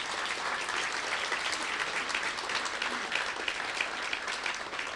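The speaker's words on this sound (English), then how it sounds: "round of applause for the faculty" Graduation audience at SMU Guildhall's spring 2017 ceremony applauding the faculty, a broad, even wash of many hands clapping in a large room, steady and moderately distant with no pause.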